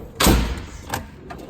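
A steel drawer on an EPIQ toolbox opens with one loud sliding thump near the start, then a lighter clunk follows a moment later, close and sharp with no talking.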